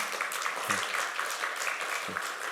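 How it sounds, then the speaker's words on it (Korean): A church congregation claps together in a sustained round of applause during a Sunday service, steady and fairly loud, with a couple of low thumps beneath. "큰 박수로 격려해 주시기 바랍니다"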